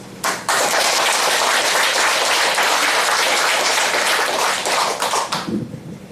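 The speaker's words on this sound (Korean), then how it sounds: "다 같이 큰 박수로서 환영하는 박수로서 맞이합시다" Loud, dense applause from an audience welcoming guests, including pastors, at a gathering ahead of a bust unveiling ceremony, clapping steadily for several seconds before thinning out.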